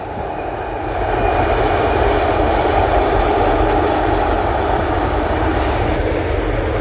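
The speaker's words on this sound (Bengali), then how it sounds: "দেখুন ট্রেন যাচ্ছে" A train rumbles past with a loud, steady roar that swells in the first second and then holds.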